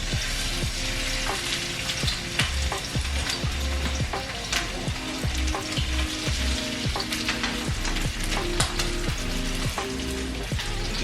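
Salmon sears in a pan of hot grease, giving a steady, loud sizzle and crackle with faint clinks of utensils and no talk.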